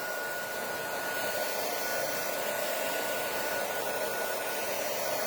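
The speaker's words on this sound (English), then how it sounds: "I am going to get the heat tool back out and heat this just a little bit more" Close and loud, a craft heat gun drones without pause as it dries stencil Stardust butter paste, a continuous airy roar with a faint high whine and no voices.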